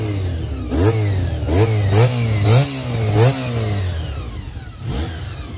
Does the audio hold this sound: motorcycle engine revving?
yes